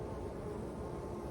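Honey bees swarm around their hive after winter, a continuous low, even buzzing drone that is soft and unbroken throughout.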